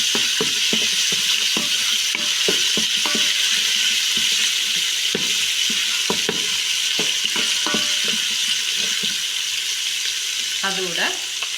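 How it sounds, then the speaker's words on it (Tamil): Ginger garlic paste sizzles steadily in a hot pan for yellow rice, with repeated scraping stirs and clinks of the utensil over the constant frying hiss. "இஞ்சி பூண்டு விழுதை நான் சேர்த்துக்கிறேன்."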